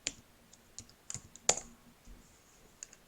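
Quiet, sparse keystrokes on a computer keyboard, a handful of separate clicks spread irregularly across a few seconds, close but faint with no talking.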